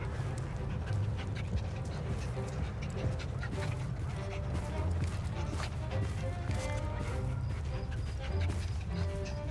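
A dog in the video game Assassin's Creed Syndicate pants and whimpers with a few soft barks, fairly faint and steady under low ambient street noise.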